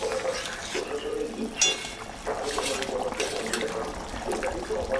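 Rohu fish pieces drop into a simmering curry broth with wet splashes and bubbling liquid, close by, with a faint voice in the background.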